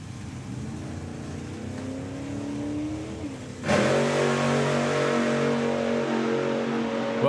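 A blown nitro Chevy drag racing car drones at a distance, its engine pitch climbing, then a much louder roaring pass bursts in near the midpoint and keeps thundering with a rough, harmonic-rich rumble.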